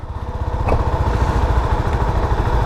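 A CF Moto 250 SR motorcycle engine runs close by with a steady, loud, rapid pulsing throb and no voices over it.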